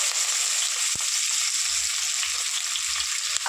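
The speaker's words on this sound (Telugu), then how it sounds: "ఒక 4 పచ్చిమిరపకాయలు వేసి ఫ్రై చేసుకుందాం" Sliced onions and four green chillies frying in about three spoons of hot oil give a steady, close bright hiss and crackle, with a faint sharp tap or two from a spoon against the pan; no talking.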